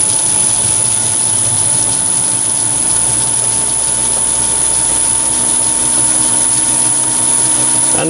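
Metal lathe turning at a slow spindle speed with an off-balance overhanging chuck jaw, a loud steady mechanical hum with a persistent whine and no talk.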